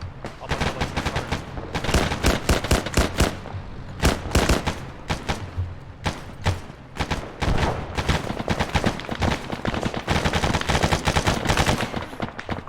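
Rapid, loud gunfire in the military shooter game ArmA, with dense machine gun bursts and single shots cracking almost continuously, a few voices briefly audible beneath.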